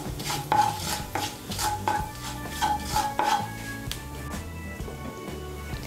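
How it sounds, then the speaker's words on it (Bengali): Dried chillies and whole cumin seeds are tempered in a pan and stirred, giving a steady series of close scraping strokes against the pan over a faint sizzle. "শুকনো লঙ্কা আর 1/2 ছোট চামচ গোটা জিরে ফোড়ন দেব। দিয়ে একটু নাড়াচাড়া করে নিয়ে"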